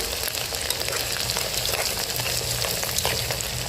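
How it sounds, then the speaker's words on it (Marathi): Chopped onions, cumin and mustard seeds fry in hot oil in a pan, giving a loud, steady close sizzle with faint stirring scrapes throughout and no voices. "तेल टाकल्याच्यानंतर 2 कांदे बारीक केलेले टाकायचे, जिरे मोहरी टाकायची"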